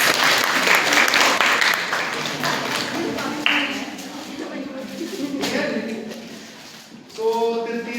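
An audience at a college program applauds steadily with dense clapping that gradually thins out, then swells briefly again near the end.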